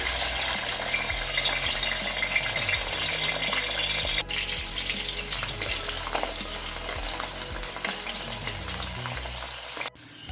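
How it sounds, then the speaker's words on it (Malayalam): Garlic frying in hot sesame oil for a lemon pickle gives a steady, loud sizzle with spoon stirring and scraping throughout, a brief dip near the middle and a sharp knock near the end. "വെളുത്തുള്ളി ഇവിടെ ഫ്രൈ ആയി കിട്ടിയിട്ടുണ്ട്"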